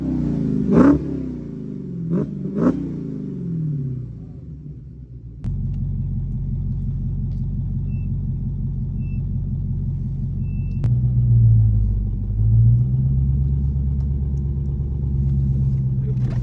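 An 840 HP Dodge Demon V8 gives two sharp, loud revs, then settles into a deep, steady rumble that swells again later. Voices speak briefly near the start.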